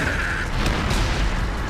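A cartoon artillery shell goes off in a loud, heavy boom with a rumbling blast that fills the short moment, with no talking.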